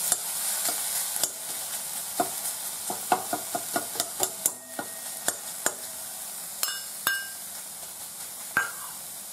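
Fresh chhena scraped into a lightly heated kadhai on a very low flame, with repeated sharp clinks and scrapes of a utensil against the pan over a faint, steady sizzle, close and fairly quiet, with no talking.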